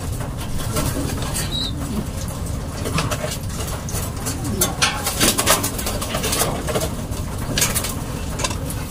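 Breeding pigeons in a loft coo softly and shuffle nearby, with scattered wing flutters and clicks over a continuous low rumble of background noise.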